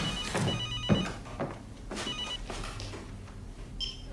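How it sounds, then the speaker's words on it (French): A mobile phone rings muffled inside a coat pocket, repeating electronic tones over a low background hum, fairly close and moderately loud. "Votre manteau est en train de sonner."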